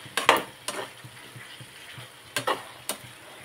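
Boiled eggs are being stirred through spicy chili masala in a pan: a few scraping, clattering spoon strokes against the pan, spaced irregularly and fairly close, with a light sizzle between them and no talking.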